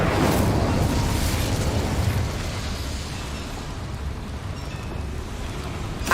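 The Incendio fire spell in Hogwarts Legacy, cast inside a mine, goes off as a loud roaring burst of flame that slowly fades into a sustained crackling rush.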